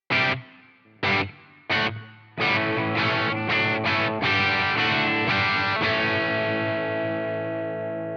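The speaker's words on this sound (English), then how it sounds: "sounds like a spring reverb" Electric guitar through a Blackstar amp with a distorted tone plays a few short stabs, then sustained chords ringing out with a wash of spring reverb that slowly decays.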